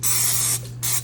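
Two short bursts of cooking spray misted into a 9x5 loaf pan, close and crisp, the first longer hiss followed by a brief pause and a second shorter spray.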